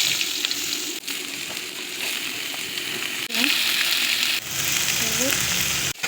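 Potatoes and cumin sizzling in hot oil in a home kitchen, a steady frying hiss broken by a few stirring scrapes and clatters, with faint voices in the background.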